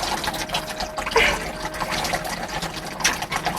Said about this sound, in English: And can you wash your hands?